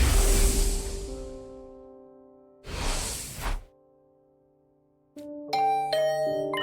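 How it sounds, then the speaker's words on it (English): A two-tone chime doorbell rings in the video game The Hundred Line: Last Defense Academy, preceded by soft whooshing game sound effects, with clear, moderately loud tones at the end and no talking. "Was that my doorbell?"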